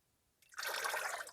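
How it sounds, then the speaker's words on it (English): Water running briefly as a shaving brush is soaked, a short close splashing rush that starts abruptly and stops after about a second. "Let's soak up the brush, my Joker brush by Highlander brushes."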